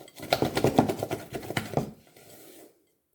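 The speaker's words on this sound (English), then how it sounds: "So you sort of bash it backwards and forwards really quick across the side of the bowl." Thick macaron batter being bashed quickly back and forth against the side of a mixing bowl, giving a rapid run of close, clattering knocks and scrapes for about two seconds before it stops.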